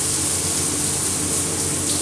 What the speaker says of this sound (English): Well, it's a great shower head.